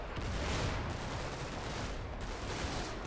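Dense small-arms fire pours from a Normandy hedgerow in a World War II tactical battle game, a continuous crackling fusillade with rapid overlapping shots, fairly distant and steady, no talk.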